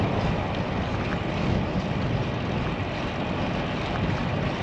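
Steady, loud wind buffeting the microphone on a bicycle ride from Key Largo heading northeast, with the wind coming from the front right, forming a continuous broadband rush with no pauses and no talk.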